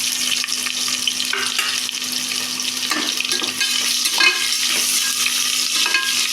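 Chopped large onions fry in a pan for tomato rice, giving a steady broadband sizzle with occasional stirring scrapes and a faint hum beneath, continuous and close throughout.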